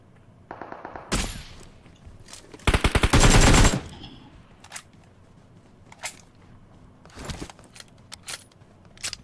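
Loud bursts of automatic gunfire and single shots ring out in PUBG, with rapid rattling volleys early on and scattered sharp cracks afterward.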